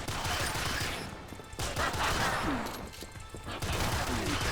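Video game gunfire in Rise of the Gorecats: dense, loud bursts of rapid shots and crashing impacts pour out almost continuously, with brief lulls between volleys.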